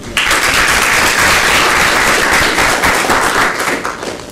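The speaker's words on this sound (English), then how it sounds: "And applause to John as well." Conference audience giving a round of applause for a presenter, a sudden loud burst of many hands clapping that holds steady and tapers slightly at the end, no voices.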